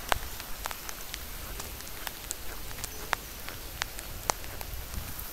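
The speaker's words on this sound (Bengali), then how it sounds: "এই দেখেন প্রচণ্ড পরিমাণে বৃষ্টি পড়তেছে বাইরে" Heavy rain falls outside, a soft, steady patter with scattered sharp drops ticking on a surface, fairly faint and continuous with no voices.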